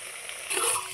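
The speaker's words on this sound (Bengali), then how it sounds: "হালকা হিট দিয়ে এইভাবে ভেজে নিতে হবে কাটলেটগুলো" Fish egg cutlets frying in oil over low heat give off a steady, close hiss and sizzle, brief and without pause.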